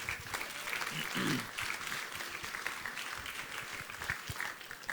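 A church congregation applauds during a worship gathering, a steady wash of clapping that fills the room for several seconds, with a brief voice or murmur rising in the middle.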